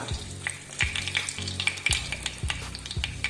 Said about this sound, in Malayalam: ആദ്യം കുറച്ച് കടുക് ഇട്ട് കൊടുക്കുക